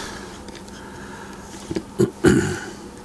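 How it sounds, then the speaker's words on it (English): A couple of short, rough throat-clearing sounds close to the mic, the last one louder and raspier, with no speech around them. "I do apologize for clearing my throat so much"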